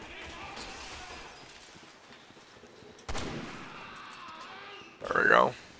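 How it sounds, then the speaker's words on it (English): Sniper rifle shots fire in Resident Evil 6, two sharp cracks standing out over a busy game soundtrack, the second louder and followed by a ringing tail. "Let's see how you guys like sniper bullets."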